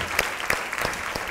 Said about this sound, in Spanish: ¡Fuerte el aplauso para los profesores y profesoras!